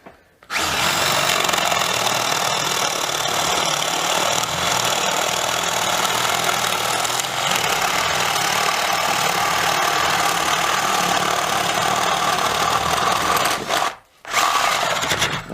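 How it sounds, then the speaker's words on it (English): A Milwaukee M18BPD cordless drill bores steadily into wood, a loud sustained whine that holds for about thirteen seconds before a brief cutoff, then spins up again. "Some drill, right, in with the Milwaukee."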